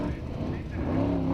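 Formula Offroad car Lightfoot, a multiple Norwegian championship winner, racing in competition at Akureyri, Iceland, its engine droning steadily and rising slightly in pitch over a brief moment.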